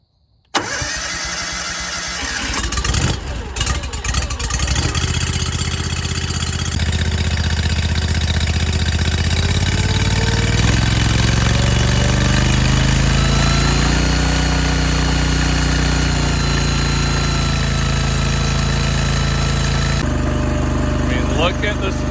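A log splitter engine with electronic fuel injection cranks briefly and catches. It then settles into a steady mid-pitched idle that runs on nearby, loud and continuous.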